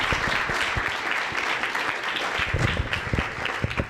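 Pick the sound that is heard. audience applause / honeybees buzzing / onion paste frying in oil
audience applause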